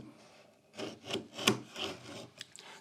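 A sheet of fabric-backed 100-grit sandpaper is cut to size, giving a few soft, close rasping scrapes and rubs in an uneven rhythm, with faint ticks at the end and no talking.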